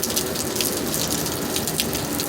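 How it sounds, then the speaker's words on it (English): Heavy rain pours steadily in a dense, unbroken hiss and patter, loud and close outside a hotel near Shreveport during a storm, with no voices. "all day yesterday and raining heavy today"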